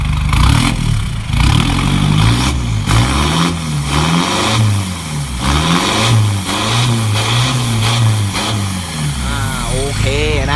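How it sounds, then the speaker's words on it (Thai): A stock car engine with its exhaust piped straight out of the turbo, revved repeatedly in loud, rising and falling surges that run through the whole stretch, heard up close with a steady underlying drone. "อันนี้เครื่องเดิมเลยนะครับท่อยิงตรงจากเทอร์โบลงมาเลยนะครับ รถเดิมมเครื่องเดิมดังประมาณนี้นะครับ"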